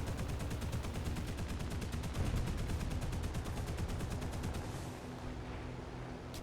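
Aircraft machine guns in the War Thunder combat game fire in long rapid bursts, a dense rattling stream of shots over engine drone that fades out toward the end.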